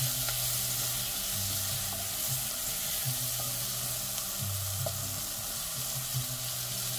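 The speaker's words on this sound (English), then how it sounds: "Continue stirring until the onion becomes a little translucent." An onion fries and sizzles steadily in a pot on the stove for butternut squash soup, stirred now and then with a spoon, the crackle close and continuous at an even moderate level with no talking.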